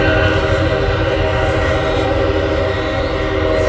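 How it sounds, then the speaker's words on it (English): Nearby train passing loudly, a dense, steady rumble with sustained horn-like tones, continuous and close for the few seconds, with no talk. "The loud train might be a sign."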